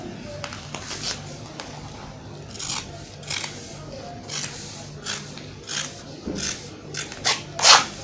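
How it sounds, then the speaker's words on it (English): Scissors cut fabric for a kimono dress neckline in a series of short, crisp snips close by. The snips get louder and quicker toward the end. "then this front I'm going to cut out the neck again."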